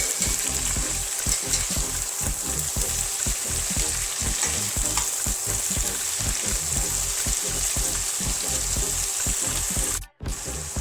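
Cauliflower pieces fry with onions in a hot pan, a loud continuous sizzle broken by rhythmic stirring scrapes throughout, ending with a sudden brief cutoff near the close.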